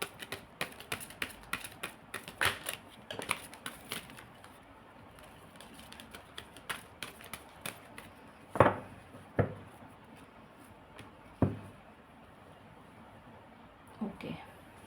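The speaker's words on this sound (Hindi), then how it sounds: "My last shuffle." Tarot cards being shuffled by hand give off soft, irregular taps and riffling clicks that come in uneven clusters over about fifteen seconds, with a few sharper snaps near the middle and end.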